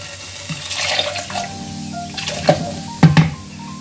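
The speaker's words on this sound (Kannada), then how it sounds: "ಸ್ವಲ್ಪ ನೀರು ಹಾಕೋಣ." Water pours into a pressure cooker holding chopped snake gourd and chickpeas, a splashing, gurgling stream with a few louder sloshes near the end, close and alone.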